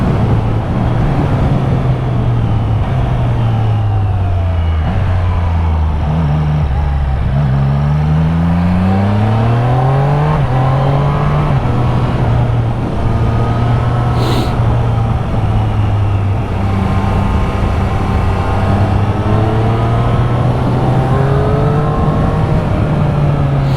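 A 2023/2024 Triumph Street Triple 765 RS ridden on a road, the engine loud and close with rising and falling revs through gear changes under steady wind roar, continuous and unbroken, no voices.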